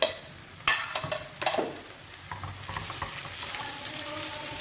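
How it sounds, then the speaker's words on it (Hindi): Chopped tomato drops into a hot pan of ginger and garlic frying for chana dal, with a few close stirring scrapes and knocks at first, then a steady sizzle that keeps going, with no one speaking. "अब हम इसमें शामिल करेंगे 1 बड़े साइज का टमाटर कटा हुआ।"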